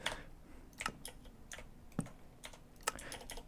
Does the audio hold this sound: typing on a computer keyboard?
yes